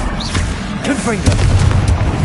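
Confringo blasting spell going off in Hogwarts Legacy, a deep booming explosion with a rumbling tail, layered with voices during combat.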